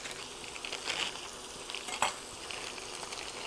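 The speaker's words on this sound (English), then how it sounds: "we're gonna add in one package of diced potatoes" Diced refrigerated potatoes, about 20 ounces, tumble into a hot skillet for a loaded breakfast dish, giving a steady sizzle with a few brief scrapes and clicks from stirring, fairly close and with no voices.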